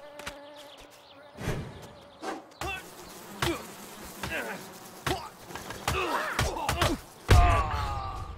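In the video game Cornerstone: The Song of Tyrim, a swarm of bees attacks with droning buzzes woven through repeated thumps, hits and game effects, and a person talks over the action.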